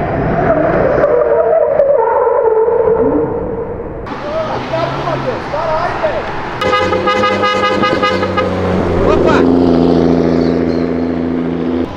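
A BMW 320 with a body kit and a swapped 2JZ engine street races a Civic Si, engines revving and roaring loud and close, with tire squeal and a horn toot as excited voices talk over it.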